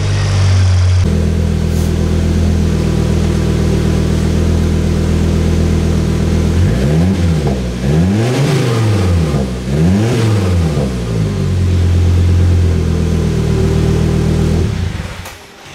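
A Volvo S60R engine, started after sitting at auction as a wrecked car, idles with a strong, steady drone, then revs up and down several times in quick swells before settling back to idle and cutting off.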